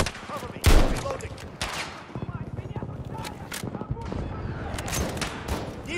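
Dense gunfire and bursts of automatic fire in a Battlefield 2042 Portal BF3 conquest match on Arica Harbor, with a loud blast near the start and steady rattling shots throughout, mixed with voices calling out under the fighting.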